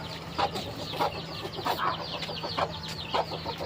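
Hens in a chicken coop cluck repeatedly in a loose rhythm, about six distinct calls spread over a few seconds, near and clear against a low steady hum.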